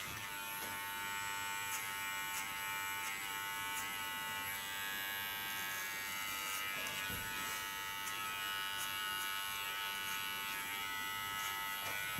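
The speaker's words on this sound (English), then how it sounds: "I take my large clipper again and gonna make shadow lines" A large electric hair clipper buzzes continuously as it cuts hair, a close, steady high-pitched hum with faint brushing contact sounds and no talking.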